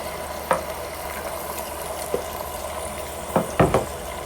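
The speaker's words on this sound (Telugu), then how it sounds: "మటన్ ముక్కల్ని వేద్దాం వేసి అంతా గోలనివ్వాలి" Marinated mutton pieces frying in hot oil for a gravy, a continuous close sizzle with a few sharp stirring clinks and scrapes from a utensil in the pan, no talk.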